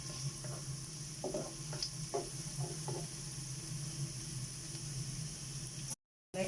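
Garlic sizzles in a preheated frying pan with a soft, steady hiss, a few light utensil taps and scrapes early on, then a brief drop to silence near the end.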